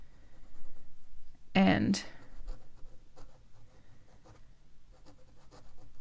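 A well-tuned, wet fountain pen nib scratches across paper in a short burst of writing strokes, close and clear, while a person talks throughout.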